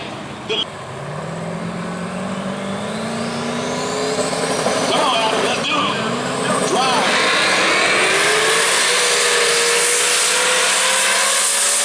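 A 2006 Pontiac GTO and a 2006 Camaro SS launch in a drag race at World Wide Technology Raceway, engines roaring louder as they climb through the gears, while an announcer talks over them.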